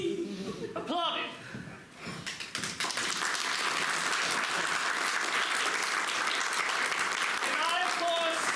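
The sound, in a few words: audience applause at theater play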